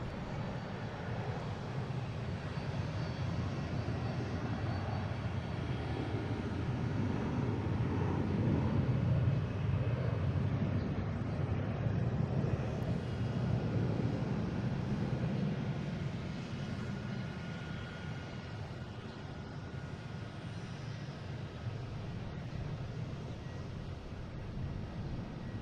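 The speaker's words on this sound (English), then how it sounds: "next taking off is a Delta heading to Atlanta, an A321, flight 973" A Delta Airbus A321 on its takeoff roll for Atlanta at Boston Logan builds a deep, sustained engine roar that peaks mid-way and slowly fades as it climbs away, heard alone with some wind buffeting.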